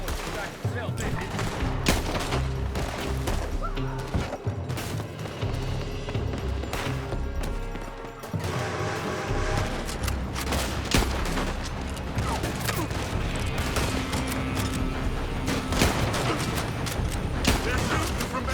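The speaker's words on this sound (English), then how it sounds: "They're shooting from that building!" Dense gunfire rattles through a Red Dead Redemption 2 firefight, continuous bursts and shots from a building layered with music and game sounds, loud throughout with voices calling out.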